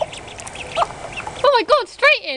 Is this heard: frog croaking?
no